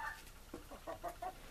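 Orloff chickens give a short run of soft, close clucks, about five quick notes in a row during a dust bath.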